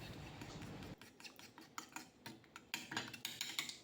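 Egg whisked with coriander, salt and pepper in a bowl, a utensil clinking and scraping against the sides in quick uneven strokes, close and fairly faint, with no talk.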